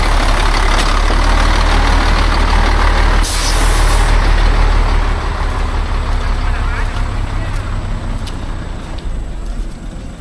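A logging truck on a muddy route rumbles loudly and close, with a sharp burst of air-brake hiss partway through and voices over the engine noise.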